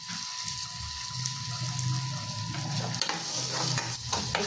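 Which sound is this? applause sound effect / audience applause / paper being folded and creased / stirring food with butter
stirring food with butter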